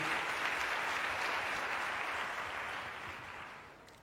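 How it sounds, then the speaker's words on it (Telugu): A church congregation claps loudly together, a dense sustained wave of applause that fades gradually toward the end, with no talking over it. "నమ్మిన వారు గట్టిగా చప్పట్లు కొట్టి దేవుని మహిమపరచండి."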